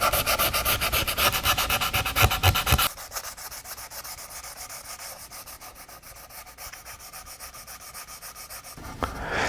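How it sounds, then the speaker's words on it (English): Light sanding over an epoxy repair on a guitar's finish gives a steady rhythmic rasp of back-and-forth strokes, loud at first, then softer and even, alone without talk. "I can then proceed with just lightly sanding where I made the repairs"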